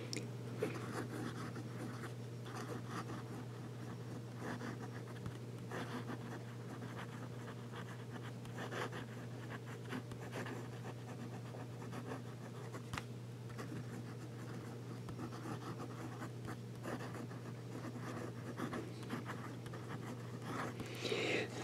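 A Pilot G78 fountain pen with a fine nib writing on paper, faint soft scratching and light nib strokes over a steady low hum, quiet and close with no talking.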